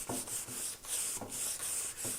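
Rhythmic close rubbing as wadded material is scrubbed back and forth over a wooden ladder rung to smooth it, about five even strokes with soft hissing texture and no talk.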